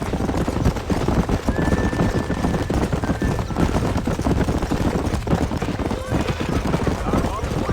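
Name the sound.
horses trotting and neighing in the video game Red Dead Redemption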